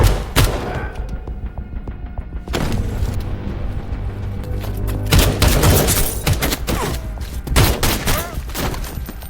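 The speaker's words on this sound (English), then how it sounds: "Everything seems to go as planned until a gunshot breaks the silence." Gunfire in an action film: bursts of shots, booms and thuds go off in chaotic clusters over a rumbling score. The sound is loud, with scattered impacts that grow denser toward the middle and end.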